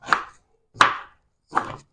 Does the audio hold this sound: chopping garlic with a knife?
yes